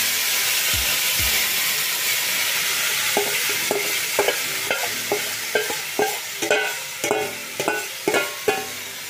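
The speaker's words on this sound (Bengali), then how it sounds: "এখন আমি এর মধ্যে দিয়ে দেব ম্যারিনেট করে রাখা চিকেনটা।" Marinated chicken added to softened onions in a hot pan, giving a loud steady sizzle and hiss, followed by a regular series of sharp spatula scrapes and taps as the mix is stirred, close up and without talk.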